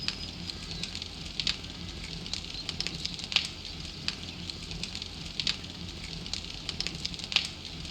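A burning campfire in the zombie survival game 7 Days to Die crackles steadily, with a soft continuous roar and scattered sharp pops and snaps at close range, no voices.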